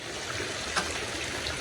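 Water runs from a faucet near a pool, a steady close rushing flow with no pauses.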